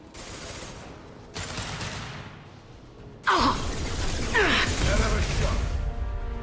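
Mass Effect 2 gunshots and clanking weapon mechanisms, with a sudden louder burst of firing partway through and a steady mechanical rattle underneath.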